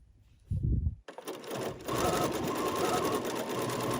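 A sewing machine stitches a quilt at a very short stitch length, a close rapid mechanical whir that starts after a brief thump and runs steadily to the end.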